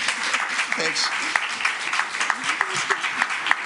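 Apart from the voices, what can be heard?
round of applause for the administration and board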